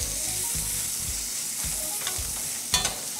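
Onions fry in a pan while being prepared for a Russian salad, a steady close sizzle and crackle throughout, with soft stirring scrapes and a brief utensil clink near the end.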